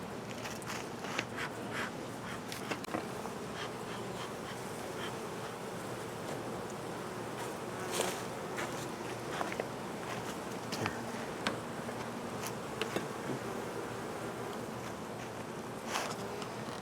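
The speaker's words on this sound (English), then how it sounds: "it looked like there were some bees on all the frames" Honeybees buzzing around an opened hive during an apiary inspection: a steady, faint, dense hum with occasional louder passes of individual bees close by, no talking.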